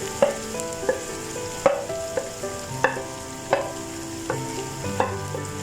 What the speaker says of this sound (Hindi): गोभी डालने के बाद इसको अच्छे से मिक्स कर लेंगे।